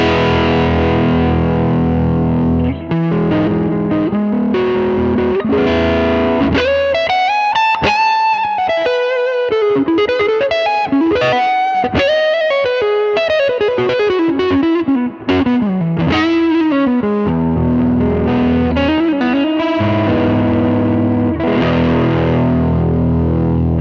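Jazz guitar played through a Hotlanta Dual Drive boost pedal, with sustained distorted chords and single-note melodic lines. The tone stays loud, thick and saturated throughout, with no talking over it.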